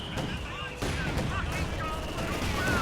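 A mortar barrage in Company of Heroes 2 during a fight between British and Wehrmacht forces: repeated sharp detonations and gunfire rattle close together, mixed with battle noise and someone talking.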